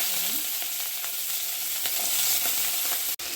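Mustard seeds and fenugreek sizzle steadily in hot oil in a pan, a dense hissing fry with faint popping crackles, close and even throughout.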